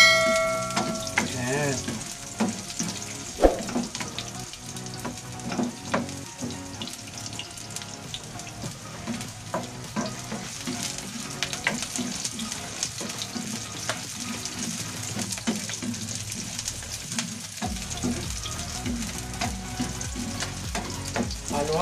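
Leftover vegetables and egg fry in a pan for vegetable egg foo yong, giving a continuous loud sizzle and repeated stirring scrapes, with a brief spoken word partway through.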